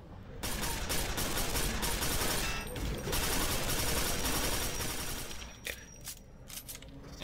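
Dense, continuous gunfire and explosive blasts fill a battle in the sci-fi shooter Quake 4, loud and close and sustained for several seconds before thinning into scattered shots.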